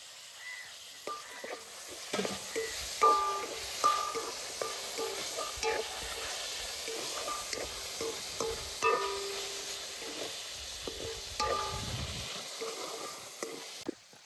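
Oil crackles softly in a pan as tomato and cardamom cook for a paneer dish, with a steady low sizzle broken by scattered sharper pops and stirring clatter, fairly quiet and close with no talking.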